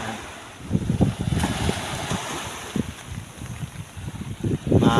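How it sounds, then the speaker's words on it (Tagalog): Strong storm wind buffets the microphone along a Philippine coastal road strewn with seaweed, with rough sea waves surging and crashing nearby in steady, roaring gusts; no one speaks. "mahangin pa rin, maalon pa rin"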